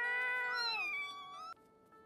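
A cat in an anime lets out a clear, drawn-out meow that bends downward in pitch, loud and close with no talking over it, before trailing off into a quieter tail after a small click.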